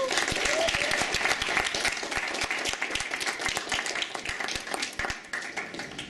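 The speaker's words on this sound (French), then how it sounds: "Je pense qu'il mérite une main d'applaudissement." Warm audience applause at a university case competition, dense and steady clapping close by that eases slightly toward the end, with a faint voice or two underneath.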